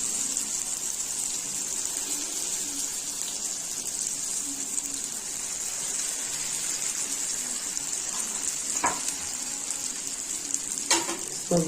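Sweet filled phyllo pastry fingers frying in hot oil, a constant loud sizzle and crackle heard close up with a few light knocks of utensils near the end, no talking.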